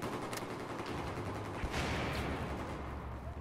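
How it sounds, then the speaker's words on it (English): Gunfire in Battlefield 4 forms a dense, continuous barrage of rapid shots that stays loud throughout, with no talking. "Shots fired in the corridor, upstairs in the room"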